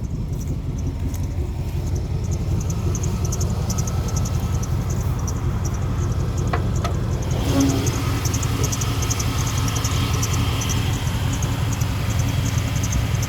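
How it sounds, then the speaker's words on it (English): An old truck with a 350 engine idles with the hood open, a steady loud rumble carrying a thin, repetitive high belt squeak throughout. "Got a little belt squeak."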